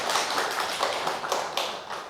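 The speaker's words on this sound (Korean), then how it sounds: "박수 한번 쳐주세요." A church congregation at a Sunday worship service claps briefly for a missionary, a short, fairly faint burst of hand claps with a loose, uneven rhythm.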